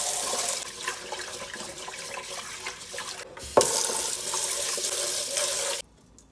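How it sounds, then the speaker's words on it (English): Running water pours and splashes steadily as rice is rinsed in a sink, a loud continuous wash broken by a brief pause and a sharp knock before the flow cuts off near the end. "Rinse the rice lightly."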